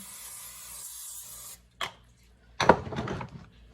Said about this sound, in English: I got this olive oil spray from Aldi. Spray that up.